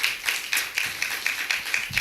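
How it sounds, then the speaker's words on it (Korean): A youth worship congregation in a church claps in thanks after a missionary's sermon, with about eight sharp, evenly spaced claps in a steady rhythm, fairly close and alone without talk. "박수 드리겠습니다."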